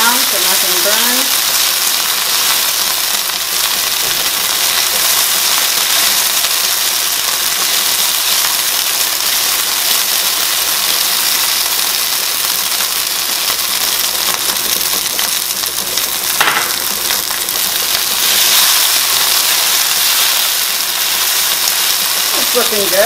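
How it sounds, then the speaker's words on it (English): Ingredients for Szechuan shrimp sizzle loudly as they are stir-fried in a very hot pan, a continuous, close frying hiss with occasional scraping and stirring sounds. "Just keep stirring everything around so nothing burns."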